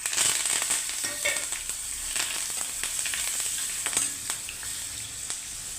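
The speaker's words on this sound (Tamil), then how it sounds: "பெருங்காயம் போட்டு ஒரு தடவை கலக்கி கொடுத்து இப்போது பச்சை மிளகா, கருவேப்பிலை" Asafoetida, green chillies and curry leaves crackle and sizzle steadily in hot oil for a South Indian dish, with sharp pops and spatters scattered throughout, close and fairly loud with no talking.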